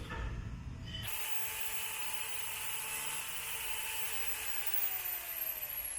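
A small drop mirror is being polished by an electric polisher, which starts abruptly after a second and holds a steady, loud, high whine throughout, close up, with no talking.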